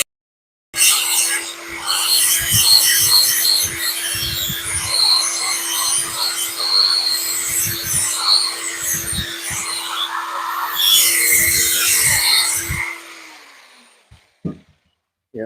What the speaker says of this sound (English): I need to shave it with my grinder.